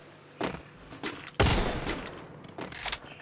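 Gunfire in a shooting video game, with a few sharp shots followed by a louder sustained burst of rapid fire, then scattered quieter reports.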